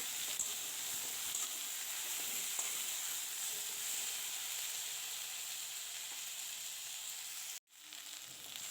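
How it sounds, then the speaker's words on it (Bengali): Taro pieces fry in a pan with turmeric and salt while being stirred, producing a soft, continuous hissing sizzle that drops out for a moment near the end before resuming. "হলুদ গুঁড়ো দিয়ে আর নুন দিয়ে নাড়াচাড়া করে খুব ভালো করে ভাজা করে নিতে হবে একটু সময় ধরে।"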